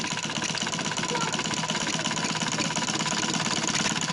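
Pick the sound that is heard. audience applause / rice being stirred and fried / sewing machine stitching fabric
sewing machine stitching fabric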